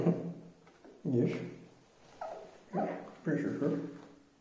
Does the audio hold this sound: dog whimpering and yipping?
yes